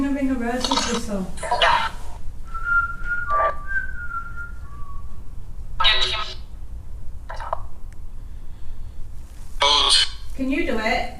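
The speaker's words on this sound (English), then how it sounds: "Do the ring a roses whistle." Someone whistles the ring-a-roses tune in short rising and falling phrases, with speech heard around the whistling.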